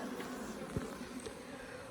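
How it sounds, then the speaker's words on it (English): Honey bees drone around the entrance of a Langstroth hive, a low, even buzzing close at hand with one brief thump partway through. "the bees are kind of sniffing around here"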